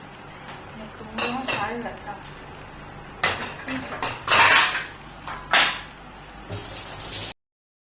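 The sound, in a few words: plates being washed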